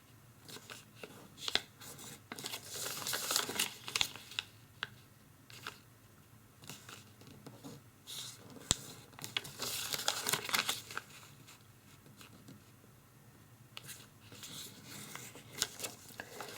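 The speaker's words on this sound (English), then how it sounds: "we're only going to crease in the center so that we're creasing along the diagonal of this small square right here" Origami paper being creased and folded for a twist antiprism box, soft close crinkling and rustling in quiet bursts with brief pauses between folds.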